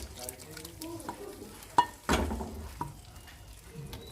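Makhandi halwa stirred in a pan as the caramel forms: soft scraping and faint sizzle under nearby talk, with a couple of sharp clinks from the spoon against the pan.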